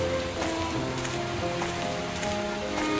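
Steady rain falls in a forest scene of the Sherlock Holmes: The Case of the Silver Earring video game, a constant dense hiss with soft tonal background music underneath and no talking.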